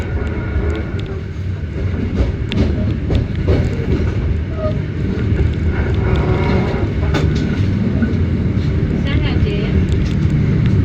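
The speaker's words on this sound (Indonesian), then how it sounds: "Ini kita bertemu kereta Sawunggalih dari Pasar Senen ya." The Sawunggalih passenger train from Pasar Senen rumbles past close by at night near Kroya, a loud, continuous roar of wheels and carriages with clacking over the rails, heard from aboard another train.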